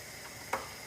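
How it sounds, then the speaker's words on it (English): Matooke frying with salt in a pan gives a steady, close sizzle, broken by a single brief click partway through. "we are frying with salt in there"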